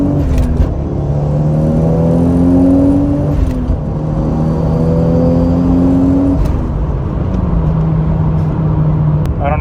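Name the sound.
turbo Supra accelerating in second gear pull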